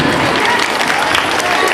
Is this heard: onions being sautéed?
no